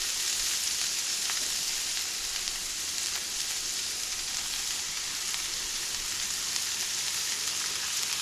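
Hash browns frying in a small pan, a continuous bright sizzle with fine crackling pops, close and steady with no voices.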